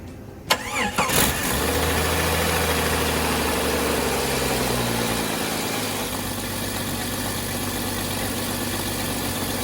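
A 1993 Jeep Cherokee engine cranks briefly, catches and settles into a steady rumbling idle, loud and close, with no talking.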